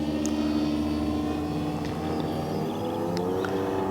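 A 104-inch Extra 300 model aircraft flies aerobatics, its propeller engine droning steadily and loudly throughout with slight shifts in pitch, no voices.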